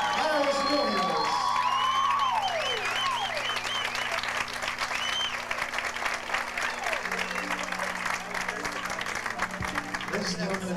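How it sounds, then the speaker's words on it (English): Wedding guests break into a big round of applause with cheers and whoops, a dense crowd sound that carries on throughout while voices and music rise over it. "how about a big round of applause for our bride and groom, Thomas and Marisol"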